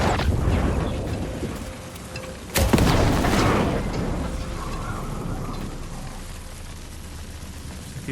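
A sharp, loud blast cuts in partway through, a single punchy shot in Alan Wake 2 with a rumbling tail over a steady background of game noise.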